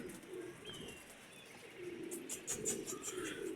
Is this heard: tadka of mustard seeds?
no